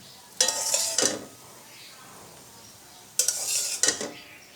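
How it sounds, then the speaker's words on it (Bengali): Boiled spinach scraped and lifted from a cooking pot onto a plate with a spoon, two separate bursts of scraping and clinking with a quiet pause between them, close and moderately loud. "পালং শাকগুলো আমি একটা প্লেটে নামিয়ে নিচ্ছি।"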